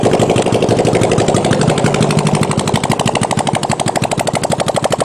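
A Honda CB450 motorcycle engine fitted to a farm go-kart runs loud and close, its rapid firing pulses forming a steady, rough, machine-gun-like chatter throughout.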